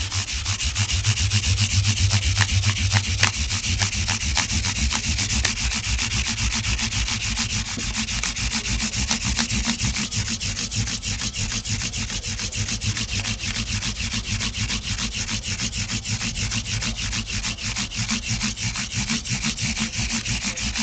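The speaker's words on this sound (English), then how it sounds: "Now I'm being very careful about pushing very hard with the sandpaper." Sandpaper is rubbed over a wooden guitar fretboard in quick, steady back-and-forth strokes, loud and close, continuing rhythmically for about twenty seconds with no talk.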